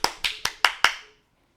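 Five sharp hand claps in a steady, quick rhythm, close and fairly loud, each ringing briefly before silence.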